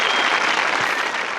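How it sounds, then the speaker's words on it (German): Applause in the video game Frog Detective 3: a dense, steady burst of clapping from a crowd, loud and close, lasting just over a second. "Begeisterter Applaus."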